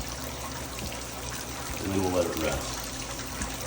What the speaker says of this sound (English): Water starts flowing.